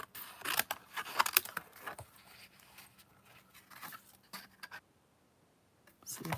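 Scissors snip through a paper mermaid cut from card, giving close, crisp bursts of cutting and rustling with short pauses and a quiet stretch before a final snip.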